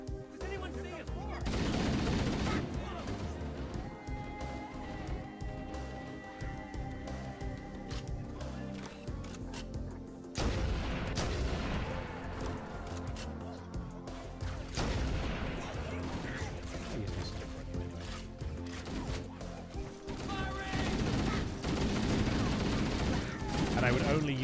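Halo video game gunfire from a Master Chief Saga playthrough, dense bursts of shots and explosions running throughout with brief lulls, while a person talks over the action.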